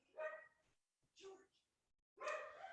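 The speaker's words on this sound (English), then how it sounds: "one problem with Zoom is if you have dogs, they're going to interrupt you from time to time" Dogs bark in three quick bursts during a Zoom call, close and fairly loud, with short gaps of silence between them.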